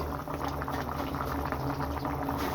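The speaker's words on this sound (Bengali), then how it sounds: "এখন আমি প্রায় আরও 6 থেকে 7 মিনিট এটাকে রান্না করে নেব বা ঝোলটা আর একটু টানিয়ে নেব।" A vegetable curry with rohu fish head simmers in a pot, thick bubbling and popping going on continuously at close range.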